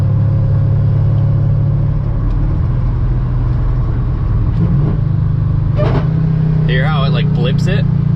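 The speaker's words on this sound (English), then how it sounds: "this thing sounds so different when you downshift" A Hellcat-swapped Dodge Dakota pickup's engine drones steadily up close, then rises with throttle blips as it downshifts, the revs surging louder toward the end; a voice talks over it.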